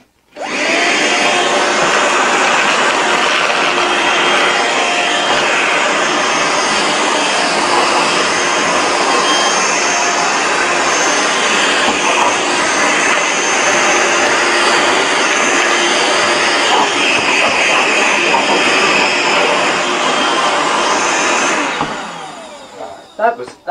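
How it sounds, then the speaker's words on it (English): A Black & Decker Dustbuster 9.6V cordless handheld vacuum (BDH9600CHV) runs steadily with a loud, high whine for over twenty seconds, then winds down and clicks off near the end. "This is a pretty good vacuum."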